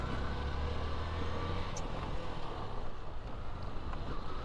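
A pickup truck with a broken cable runs at night. Its engine gives a steady, close, rumbling drone with no breaks.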